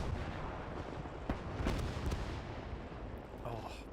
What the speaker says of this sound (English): Various impacts from both guns and mortars.